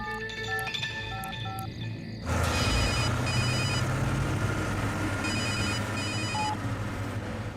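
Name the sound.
telephone ringing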